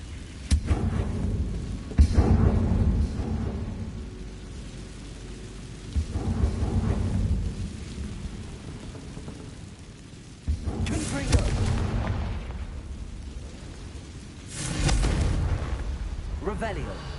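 Bombarda and Confringo spells in Hogwarts Legacy blast in several heavy, rumbling explosions spaced a few seconds apart, with spoken voices over the quieter gaps.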